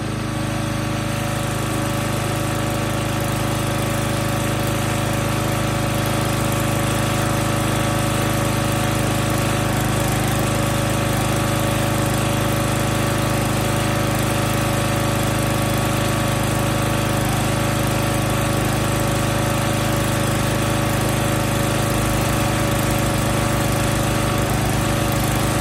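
A gas engine powers a 35 ton Huskee log splitter (2010 model), running at a steady loud drone for the whole stretch with a constant low hum and no talk over it.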